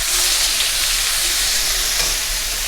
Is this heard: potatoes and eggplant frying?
yes